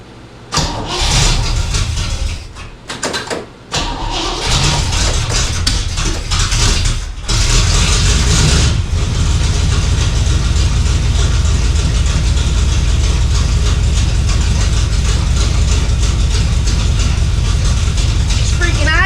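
A Chevrolet 210, a long-dormant Bel Air–era car, cranks and sputters, catches, then settles into a loud, steady idle close by, with faint voices in the background.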